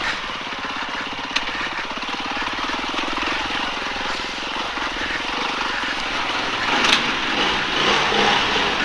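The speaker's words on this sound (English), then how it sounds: "I do like the sound of this bike." A 2020 Beta 390 RR dirt bike engine running in gives a continuous throaty drone that swells slightly toward the end, with wind noise over it and no talk.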